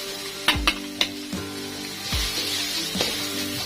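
Thai red curry paste stir-fries in a hot wok for a spicy dish: loud sizzling hisses with several sharp spatula clanks and bursts as the paste is tossed, fairly close.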